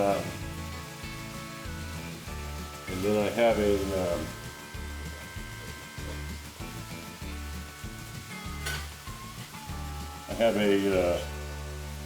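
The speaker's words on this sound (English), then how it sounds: "a spoon that I'm going to push this down into the oil with, and it's going to fry this as a cup" A corn tortilla fries in hot oil, a continuous sizzle that swells in louder bursts as it is pressed down, heard under someone talking.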